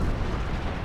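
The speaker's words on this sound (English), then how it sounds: "Yep, there's my artillery." Artillery fire in the Company of Heroes 2 strategy game, a brief dense rumbling boom of shelling that fills the short moment at moderate loudness.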